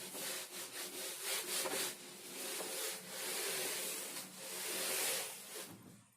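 Rapid back-and-forth rubbing of an eraser wiping writing off a board during a physics lesson on current electricity, a dry scratchy swishing in quick repeated strokes, close and fairly quiet with no talking.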